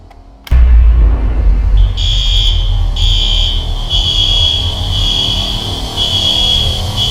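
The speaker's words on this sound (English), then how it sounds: "this will most likely happen when someone sounds the alarm" After a sudden loud onset, a school alarm rings continuously with a shrill, steady electronic tone and brief pulses, loud and close.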